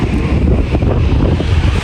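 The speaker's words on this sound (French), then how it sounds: "Écoutez les vagues." Ocean waves wash on a beach at Monastir, heard as a steady, heavy roar of surf mixed with strong wind buffeting the microphone throughout the short clip.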